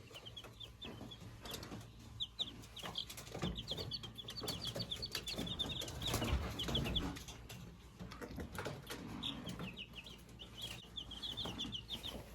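Soft clucking and peeping from chicks in a box, continuous and fairly close, with scattered rustling and light handling noises as cloth bedding is changed.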